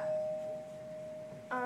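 A household doorbell rings faintly indoors, with a long, sustained electronic tone followed by a second chime note right at the end, with no voices.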